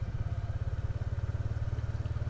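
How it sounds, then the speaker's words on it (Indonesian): A Yamaha R15 V3 motorcycle engine runs with a steady, close, low throbbing pulse that stays even throughout and is heard alone. "Gua lagi bawa R15 V3"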